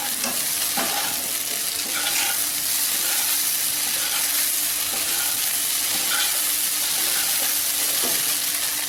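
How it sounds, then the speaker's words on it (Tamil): Idli pieces roast in a pan for spicy idli upma, giving a steady loud sizzle with faint stirring scrapes and no talk. "நல்லா இட்லியை ரோஸ்ட் பண்ணிட்டோம்."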